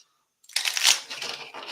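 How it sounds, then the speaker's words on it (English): A deck of Beta Earth game cards is shuffled close up after a brief silence, a quick flurry of crisp riffling that peaks then trails into lighter shuffling. "and we're going to go ahead and shuffle this up."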